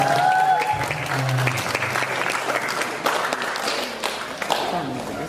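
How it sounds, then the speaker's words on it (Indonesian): An audience claps steadily through a student science-writing competition event at a school in West Flores, with dense, sustained applause filling the room at close range and a voice briefly audible beneath it. "Kita beri tepuk tangan sekali lagi"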